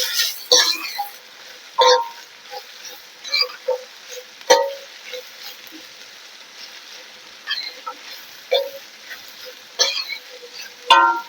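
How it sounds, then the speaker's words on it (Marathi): Chopped cabbage stir-fried in a pan for street-style egg fried rice, with soft intermittent scraping and stirring strokes and light sizzle, each stroke a short separate burst over a quiet background. "चिरलेला कोबी, घालून घेऊया। कोबी छान परतून घ्यायचा आहे।"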